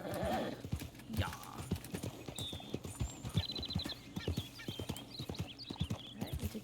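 Steady clip-clop of horse hooves on a dirt road while riding in the video game Red Dead Redemption 2, an even rhythmic trot at moderate volume with a brief whinny and faint ambient sounds.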